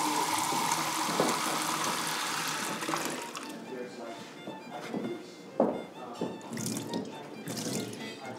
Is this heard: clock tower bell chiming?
no